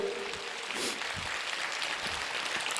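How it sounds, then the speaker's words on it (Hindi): A church congregation claps to thank God during a Hindi worship service, a steady wash of applause throughout with a faint voice briefly audible over it. "जोर से ताली बजा करके हम प्रभु को धन्यवाद देते हैं"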